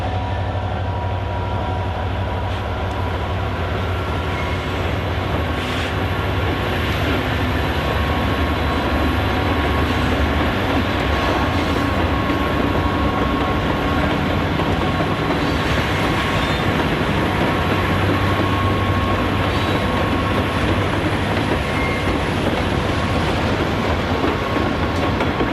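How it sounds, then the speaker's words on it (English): Two Jeep units, numbers 7 and 20, roll around a sharp curve on a model railroad branch line through trees, giving a steady, continuous rumble and clatter with faint wheel squeal and no voices. "We watch the Jeep 7 and Jeep 20 through the trees as the two units come around the sharp curve on the branch line."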